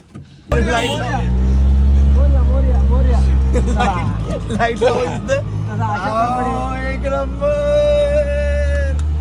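Vehicles and an auto-rickshaw run on a busy street during a Ganpati festival night, a loud continuous engine rumble close by, with people talking and crowd chatter over it.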